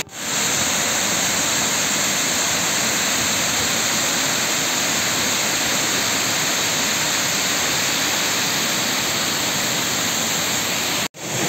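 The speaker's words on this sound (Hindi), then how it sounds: "पानी की धारा चलत झरझर झरझर झरझर चलत" Water rushing over the waste weir of Khuntaghat dam, a loud, steady roaring wash that fills the whole stretch without pause until a brief cut near the end.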